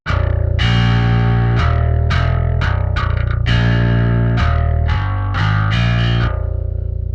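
Overdriven bass guitar from a sample library, played with a thin pick: a run of loud, gritty distorted notes struck one after another with sharp attacks and a heavy low end, alone with no talking.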